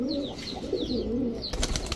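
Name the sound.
pigeons cooing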